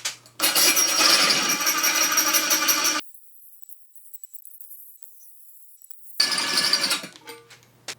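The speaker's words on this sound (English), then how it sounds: "normally drill a hole in tile" A drill bores into tile in two loud, steady, grinding bursts separated by a quiet pause, heard up close with no talk.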